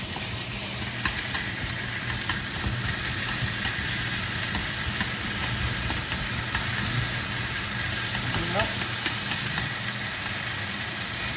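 Beef searing in a single layer in a hot skillet gives a continuous, dense hiss and sizzle that holds steady throughout, with faint scraping and no voices.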